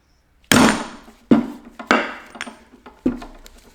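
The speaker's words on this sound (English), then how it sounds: "I have a socket, and I'm going to set this down and slightly tap." A metal spindle part tapped down onto a socket during a D170 spindle assembly gives four sharp, close knocks at uneven intervals, each ringing briefly before fading, with no talking.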